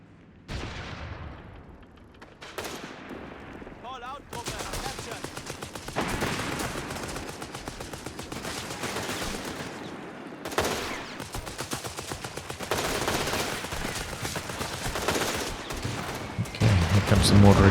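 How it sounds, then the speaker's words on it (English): Machine gun fire in the strategy video game Company of Heroes 3, a sustained, dense clatter of rapid bursts with booms mixed in, continuing steadily through a noisy battle scene, with faint voices beneath. "That MG in the building, forcing a bunch of retreats."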